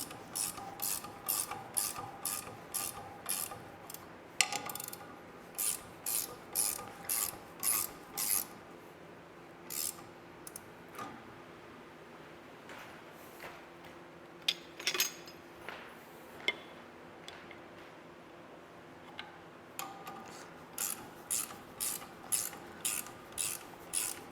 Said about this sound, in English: we're just gonna try pulling it, just tightening up the bolts,